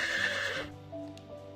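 A horse neighs in the video game Lily of the Hollow, one close, loud whinny that trails off into a quieter, lower tail.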